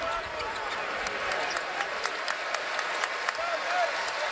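Crowd applause and cheering inside the arena at a Louisville at North Carolina college basketball game after a defensive stop, a steady broad roar with faint sneaker squeaks and murmured voices throughout.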